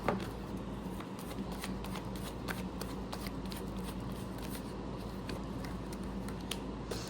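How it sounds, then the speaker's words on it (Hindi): A deck of cards being shuffled for a card reading, a steady, close, continuous riffling and sliding with crisp papery flutters and occasional snaps, heard alone without talk. "shuffling."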